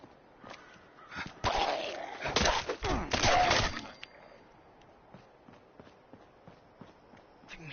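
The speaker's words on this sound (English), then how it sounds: "I'm hearing footsteps, but I couldn't figure out where the hell they were coming from" Footsteps in the Fallout 76 video game near a high school by Vault-Tec University in Morgantown, a cluster of quick thudding steps midway, then quieter scattered movement afterward.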